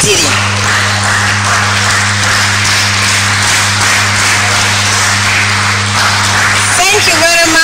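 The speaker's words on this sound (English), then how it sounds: "we clap for them and we can stand up and clap" Audience applause at a NASAC forum session in Tanzania, a steady, loud wash of clapping from a large crowd over an amplified hum, continuing throughout.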